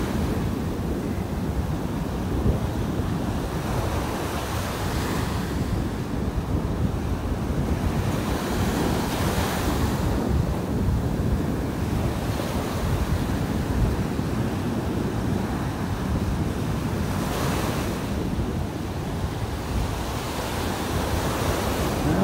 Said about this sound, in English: I'm walking into the wind here.